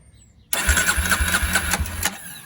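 An old quad ATV engine, fed by a jump box, cranks abruptly into a fast, rhythmic churning of starter turns and coughs for about a second and a half, then cuts off, loud and close.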